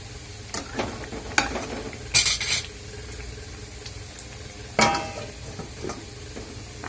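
Paneer and spinach stirred together in a frying pan, a steady low sizzle under scattered scraping spoon strokes, with a few louder clatters of utensil against the pan, close and alone without talk.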